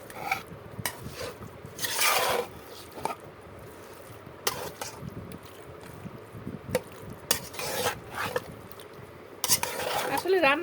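Beef being mixed with spices in a pot using a utensil, giving intermittent scraping and clattering of metal against the pot, close by, with bursts of louder stirring and some background voice.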